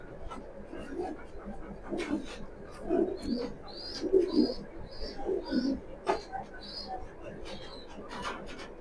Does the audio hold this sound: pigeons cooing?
yes